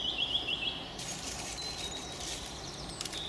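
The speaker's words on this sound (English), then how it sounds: "Listen to that song thrush." A song thrush sings in woodland along a nature trail, with several repeated high, thin whistled phrases, fairly faint and set against quiet background ambience.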